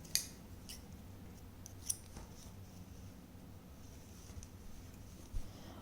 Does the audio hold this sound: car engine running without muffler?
no